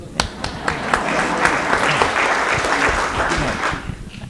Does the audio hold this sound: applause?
yes